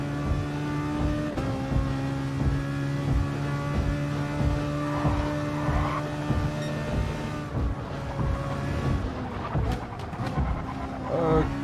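Race car engine at high speed in Gran Turismo Sport during a mission challenge, a steady droning whine with harmonic tones shifting through gear changes, running continuously under a talking voice.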